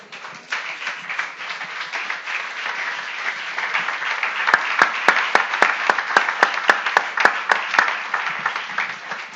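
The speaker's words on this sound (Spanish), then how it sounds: "de verdad aplaudo con fuerza" A church congregation applauding, a dense crowd of clapping hands building in strength, with sharp rhythmic unison claps in the middle before easing, loud and close.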